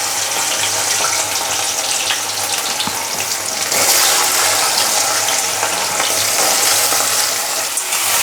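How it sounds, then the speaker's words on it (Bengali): Nigella seeds and taro pieces fry in hot oil for a Bengali village-style curry, giving a loud, dense, steady sizzle with a stir partway through and no talk. "এবার আমি তেলের মধ্যে একটু কালো জিরে ফোড়ন দেব, দিয়ে এই যে কচুগুলো কেটে রেখেছি এগুলো এখন ছেড়ে দেবো"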